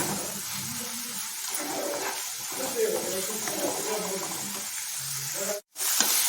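Turmeric and green chilli powder frying in a pan for bamboo shoot curry, a continuous close sizzle with light stirring, someone talking over it, then a brief drop to silence near the end.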